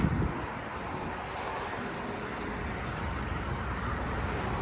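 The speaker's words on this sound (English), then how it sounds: "We got 2 New Flyer buses back to back." Two New Flyer city buses pass back to back on Steeles Avenue East near Woodbine Avenue, a steady broadband roar of engines and tyres blending with general roadway traffic noise, close and continuous with no talk.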